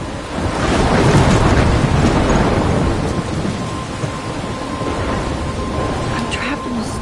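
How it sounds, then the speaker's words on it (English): Video game thunderstorm near a lighthouse, a heavy roar of rain with rolling thunder swelling in the first seconds, loud and close, then a sustained downpour with a speaking voice faintly underneath. "I'm trapped in a storm?"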